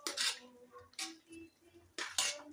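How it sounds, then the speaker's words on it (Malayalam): A spoon scraping and clinking in a pot while stirring white pulav rice mixed with coriander and curry leaves, three separate short stirring strokes spaced about a second apart, close and fairly quiet. "നല്ലോണം ഇളക്കി കൊടുക്കാം"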